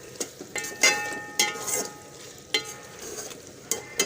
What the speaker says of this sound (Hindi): यहाँ पे थोड़ा सा ज़ीरा डालती हूँ मैं। इसको मिक्स कर देते हैं।